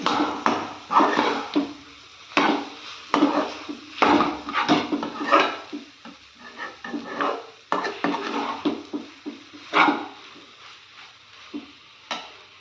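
Mutton masala being sautéed in a pan for cauliflower gravy, with close, repeated stirring scrapes and utensil knocks against the pan over a soft sizzle, in irregular bursts with no talking.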